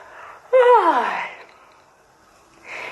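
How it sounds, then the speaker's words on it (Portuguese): A single drawn-out yawn, starting with a sharp open-mouthed intake that slides downward into a sighing exhale, followed by a short breath. "Um bocejo, né?"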